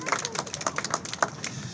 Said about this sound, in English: We're going to give them all a round of applause